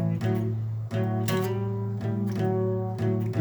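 A blues riff played on guitar, with a short slide between notes inside a repeating phrase of plucked notes, close and clear, with no voices.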